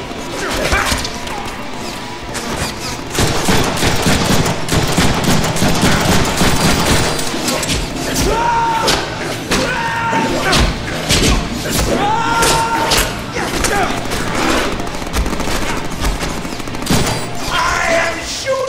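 Rapid gunfire and heavy thuds in a Deadpool video game, dense bursts crashing over a loud game soundtrack for the whole stretch, with occasional shouts from characters mixed in.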